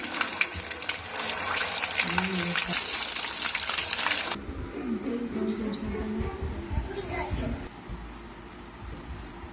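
Chicken leg pieces frying in hot oil give a steady, dense sizzle that fills the first four seconds, then drops to a softer crackle with some stirring and clatter.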